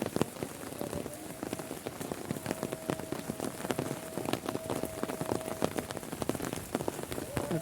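Steady rain falls on a village on a cloudy day, a dense, even patter of drops hitting surfaces close by, with sharper individual splats scattered through a constant hiss.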